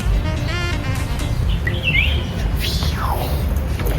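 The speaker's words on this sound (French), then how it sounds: "Les petits oiseaux." Small birds chirp and tweet in the Jardin Majorelle garden in Marrakech, with a few quick trilling calls and sweeping notes over a steady low background rumble.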